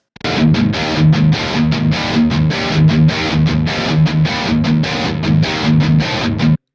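Thick, heavily distorted, double-tracked rock guitar chugs a palm-muted riff with a wide sound, loud and steady with short rhythmic stops, no voices, without post-processing.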